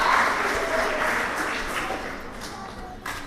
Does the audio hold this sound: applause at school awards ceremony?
yes